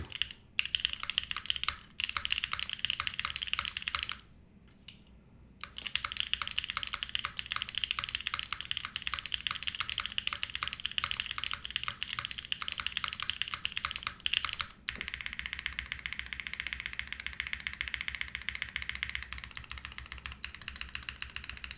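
Steady typing on a Mode Tempo mechanical keyboard, a dense run of clicky keystrokes with a brief pause early on, continuing close and clear throughout.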